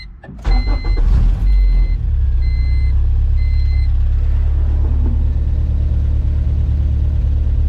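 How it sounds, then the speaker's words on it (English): A car with a Honda B20 engine cranks and fires up, catching within about a second before settling into a loud, steady idle with deep rumble close by; a few short electronic chimes sound during startup. "Let's start up the car now."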